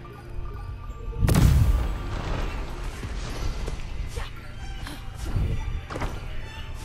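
Bomb blast in the video game Kena: Bridge of Spirits, one loud booming thud that rings out and fades, followed by fainter creaks, knocks and softer thumps.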